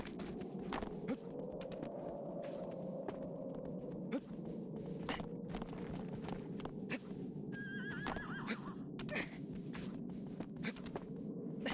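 A horse in the video game Shadow of the Colossus whinnies and snorts while its hooves clip-clop at a walk, steady near thuds running throughout with a sharp neigh near the end.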